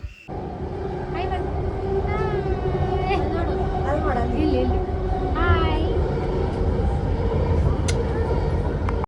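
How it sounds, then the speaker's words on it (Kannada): A Bengaluru metro train slowing to a stop near Majestic: a steady low rumble of the carriage fills the clip, with passengers talking over it and brief squealing tones. "ಟ್ರೈನ್ ಸ್ಟಾಪ್ ಆಯಿತು ಮೆಜೆಸ್ಟಿಕಲ್ಲಿ ಚೇಂಜ್ ಮಾಡ್ಕೋಬೇಕಿತ್ತು"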